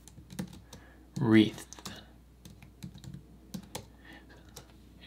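Clicky keystrokes on a computer keyboard tap out a short run of typing in light, scattered bursts, with a brief spoken word in the middle.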